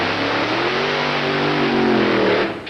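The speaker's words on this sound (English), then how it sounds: "if you listen here, you'll notice West's car sounds different from the other nitros during the burn" A nitro drag racing car running on alcohol during its burnout at the 1985 ADRA World Finals, heard as a sustained engine roar that rises slightly in pitch and then drops off near the end, with no one speaking.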